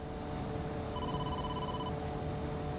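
A phone call ringing in the AI: The Somnium Files video game: one steady electronic ring tone lasting about a second, heard over a constant low background hum.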